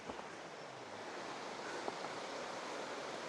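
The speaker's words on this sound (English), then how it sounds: "You can see the water flowing down through there." Water of Spoon Creek rushing down through a forested Olympic Peninsula ravine, a steady broadband wash heard from a distance, continuous and alone with no talking.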